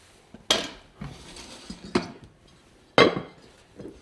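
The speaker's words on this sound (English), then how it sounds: "Let's get our frying pan now." A metal frying pan clanks and knocks several times in a kitchen, sharp close impacts spaced irregularly with quiet gaps between, no speech.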